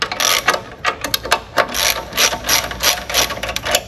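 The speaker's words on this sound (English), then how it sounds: "I'm using either a T-tool or a 13 millimeter ratchet. And I'm just going to take this bolt off real quick." A 13 millimeter ratchet clicks rapidly as it backs a bolt off a reel mower, loud and close, in a series of quick back-and-forth strokes with short pauses between them.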